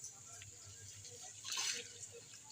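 Water boils in a cooking pot on the stove, a low bubbling and dripping wash with a louder surge of bubbling about halfway through, heard close and alone.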